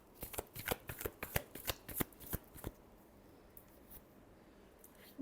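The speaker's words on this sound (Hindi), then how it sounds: "Last shuffle." A deck of tarot cards is shuffled close up in a quick series of crisp riffling flicks, then a quiet pause with faint handling noise.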